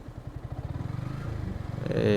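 A motorcycle putters along at low speed on a test ride before servicing, its engine a close, rhythmic pulsing thrum that swells into a louder rev at the end, with a voice talking over it.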